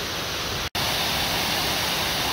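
Water at a hidden waterfall in Whitnall Park, Franklin pours in a steady, loud, broadband rush, interrupted only by a split-second gap.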